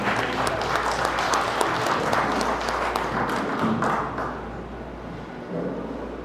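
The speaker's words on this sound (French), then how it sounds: "Applaudis, applaudis" Guests at a Haitian wedding ceremony in Brazil applaud in a dense, lively burst of clapping over a steady low hum, which thins and fades after about four seconds, leaving a quieter murmur.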